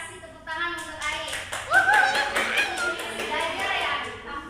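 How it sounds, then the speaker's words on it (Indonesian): Children in a Quran recitation class clap for a classmate, with a few seconds of loose clapping mixed with children's voices and chatter. "Kasih tepuk tangan untuk Ai."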